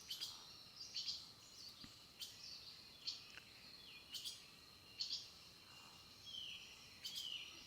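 Small birds around a backyard feeder give sharp, faint chirps and short calls in repeated bursts roughly every second, distant and quiet over soft background hiss.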